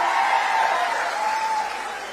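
Broad, sustained applause from a large crowd at an outdoor AAP political rally welcoming Punjab's chief minister, a continuous wash of clapping at steady volume that tapers slightly toward the end.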